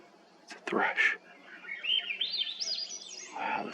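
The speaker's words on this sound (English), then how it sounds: "Oh, here it is. It's a thrush." A thrush sings a bright, warbling run of rising and falling whistled phrases near the Tetons, fairly close, after a brief voice and a few sharp sounds at the start.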